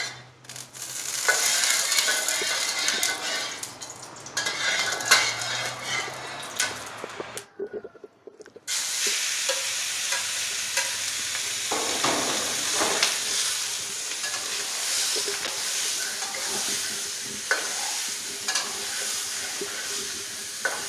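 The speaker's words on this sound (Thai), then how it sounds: "เราจะผัดหมูให้หมูมีกลิ่นหอมก่อนนะคะ" Minced pork stir-frying in a little hot oil in a pan, a loud continuous close sizzle with scraping stirs, a brief quiet break midway, then the sizzle resumes, with no talking.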